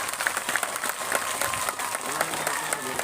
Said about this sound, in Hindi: जोरदार तालियां साहब के लिए